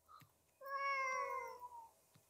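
A cat meows once in a video game, a clear drawn-out mew standing alone over a quiet background, with faint clicks before and after.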